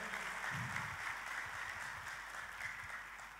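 A church congregation gives faint, soft applause during a service, a low wash of clapping with a brief murmur of voices underneath.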